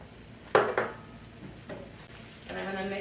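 Flour is stirred into cooked onions in a soup pot, with a couple of sharp utensil clinks against the pot followed by quieter scraping and stirring, faint and close.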